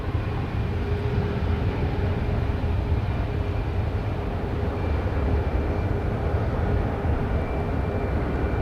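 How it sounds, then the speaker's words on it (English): A JetBlue Airbus A321 airliner from San Francisco approaches to land at Boston Logan, a steady broad low rumble of jet engines holding loud and even throughout, with no talk over it. "Next coming in is a JetBlue from San Francisco, an A321."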